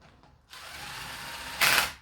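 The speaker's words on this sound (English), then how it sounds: "We'll run them up with the small impact, just barely, then I'll go back and hand snug them." A small impact wrench runs up the cylinder head bolts on a supercharged 392 Hemi being fitted with MMX ported heads. It gives a steady close whirring buzz that ends in a short, louder rattling burst, with no other sound.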